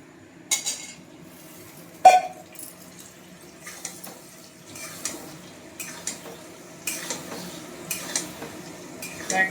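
Potatoes go into frying onions in a home kitchen pan and get stirred, with scattered scraping and clinking of a spoon against the pan over a soft, low sizzle.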